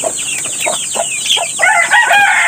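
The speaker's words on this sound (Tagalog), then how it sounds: "itong mga sisiw, papakain ko na rin po" Chicks and other fowl on a farm keep up a busy run of high, thin peeping calls, close and steady throughout with no talk.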